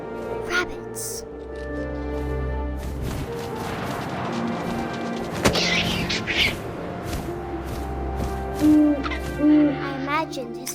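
An owl hoots in the game What Remains of Edith Finch, its calls standing out over ambient music, wind and game sounds, with a voice narrating at times.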